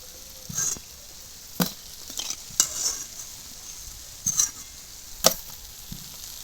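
Nimki dough snacks deep frying in hot oil, a faint, low bubbling sizzle beneath a series of distinct sharp metallic clinks and scrapes from a utensil stirring and lifting them, spaced irregularly.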